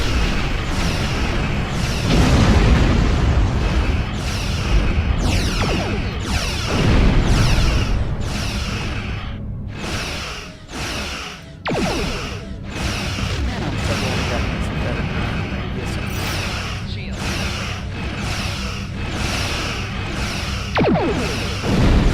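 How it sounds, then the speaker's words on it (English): Starship torpedo fire and explosions in the Star Trek Online space combat game, heard as a dense run of loud booming blasts and bursts one after another, with voices talking over the barrage. "Flores, fire torpedoes."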